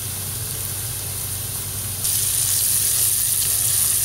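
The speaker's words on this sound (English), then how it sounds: "Make sure that your flame is medium, because you want your onions to caramelize." Onions fry and caramelize over a medium flame for chicken vindaloo, giving a loud, steady sizzle that jumps brighter and stronger about halfway through, with no talking.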